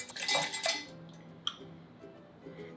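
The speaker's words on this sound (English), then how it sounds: "So all we do is just whisk the eggs." Eggs being whisked in a bowl for pumpkin pie filling, a quick burst of rapid metallic clinking and scraping at first, then a few scattered clinks against quieter kitchen background.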